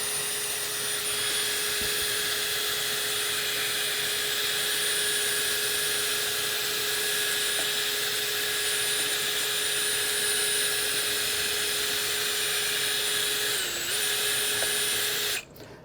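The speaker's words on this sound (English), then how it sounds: "try sanding the bottom a little bit." A steady, high-pitched whine of a power sanding pad with 180-grit sandpaper sanding the bottom of a wooden bowl runs continuously for a long stretch, droning evenly with faint scraping, then cuts off abruptly at the end.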